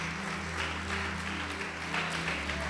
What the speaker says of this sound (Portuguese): Pode aplaudir, glorificar a Deus.